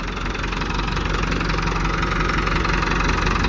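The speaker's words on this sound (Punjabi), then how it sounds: "ਟਰੈਕਟਰ ਦੀ ਆਵਾਜ਼ ਆਈ ਜਾਣੀ ਆ" A Kartar 5936 tractor engine idles steadily nearby, a low rumbling chug with a constant knocking rhythm and no voices.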